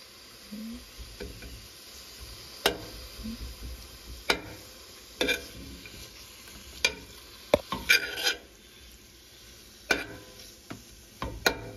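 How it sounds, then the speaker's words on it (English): Chopped tomatoes stirred into a frying pan of spiced potato rice: a steady low sizzle broken by sharp scraping strokes of a spoon at irregular intervals, close and without talk. "You can also add the chopped tomatoes now."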